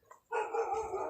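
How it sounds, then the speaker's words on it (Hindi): A dog barks in a sustained, strained howl-like bark after a brief quiet start, fairly close and clear. "कुत्ते भौंक रहे हैं जी"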